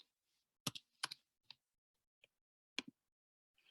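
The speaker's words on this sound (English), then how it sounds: "I'm just going to start typing in my numbers." Sparse keystrokes click as numbers are typed on a computer keyboard, a few quick taps in small clusters separated by pauses in a quiet room.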